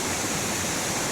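Steady, full-bodied rush of a waterfall in a little-visited spot near Ooty, a continuous broadband roar filling the whole moment with no voices.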